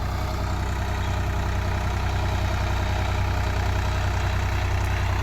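Engine of a Swaraj 855 tractor idling, a steady loud low rumble with a constant drone and no change in pace throughout.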